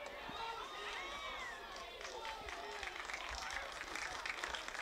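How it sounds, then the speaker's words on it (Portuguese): Spectators clap at a Brazilian women's football match between Atlético Mineiro and Flamengo, a steady wash of applause and crowd noise with a commentator talking over it throughout. "a torcida aplaudindo porque reconhece o esforço das meninas"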